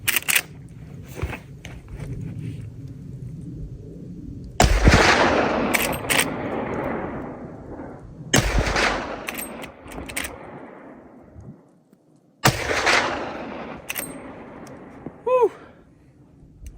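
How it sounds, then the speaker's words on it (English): A .45-70 Government Henry lever-action rifle fires 405-grain rounds outdoors, with three loud, booming shots spaced several seconds apart, each trailing off into a long echo, with faint mechanical clicks of the lever between them. "We'll see what recoil manages like, what it feels like, what it sounds like."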